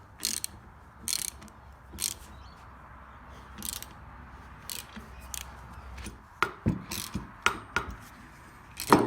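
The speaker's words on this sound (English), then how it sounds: "to remove that piece of the bearing, I'm just going to use a bearing puller" Bearing puller being wrenched to draw a piece of wheel bearing off a Porsche 981 hub, pressing against an old steel plate; faint irregular ratchet clicks and metallic ticks, growing a little louder and quicker toward the end.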